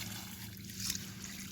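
A thin, steady trickle of tap water runs from a faucet, a soft continuous flow with a low hum beneath and a slight swell near the middle.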